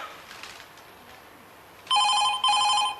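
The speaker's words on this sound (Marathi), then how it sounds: "अरे फोन घे बाबा." Indoors in a Marathi one-act stage play, a telephone bell rings twice in quick bursts after a quiet stretch, loud and bright against faint background noise.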